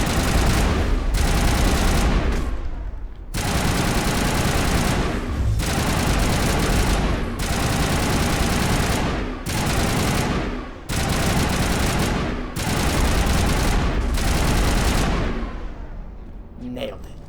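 Repeated bursts of machine gun fire from the video game Mass Effect, loud and close, in several sustained volleys separated by short gaps, with a voice talking over parts of it.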